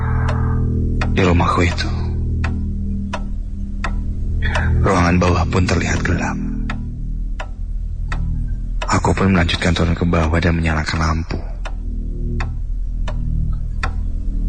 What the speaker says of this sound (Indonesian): Hanya hening yang terdengar, juga detik jam dinding